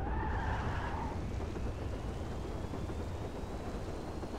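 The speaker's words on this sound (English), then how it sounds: "Oh, it's raining, so it's gonna be a little bit slippery." Rain falling during a driving video game as a Coil Cyclone car speeds along, a steady broadband hiss mixed with low rumbling, loud and continuous throughout.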